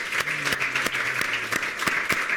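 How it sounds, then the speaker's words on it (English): An audience applauds the incoming society president at a professional meeting on fluids, steady clapping filling the room with a few sharper individual claps standing out. "Give him a round of applause."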